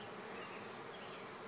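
Many honey bees drone around an open hive during an inspection of a newly introduced queen, a soft, continuous buzzing swarm heard alone and fairly quiet.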